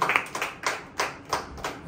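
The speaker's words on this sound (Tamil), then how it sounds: "கைத்தட்டி ஆண்டவர் மகிழ்ச்சி." A church congregation claps hands in praise during a sermon, sharp claps landing in a quick, regular rhythm of about three per second, moderately close.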